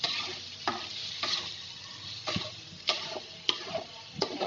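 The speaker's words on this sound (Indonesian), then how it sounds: "Ini saya tumis dulu." Spice paste for meatball soup broth sautés in a little oil, with a steady soft sizzle broken by several sharp, regular scrapes and taps of stirring, close and fairly quiet.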